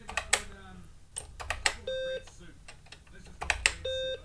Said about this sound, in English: We have a happy beep of happiness.